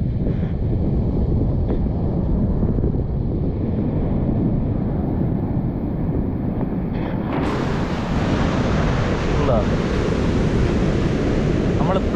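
Sea waves surge and foam at Valiyaparamba beach, a steady loud broadband wash with heavy wind buffeting the microphone, brightening and swelling midway as a larger wave breaks nearby.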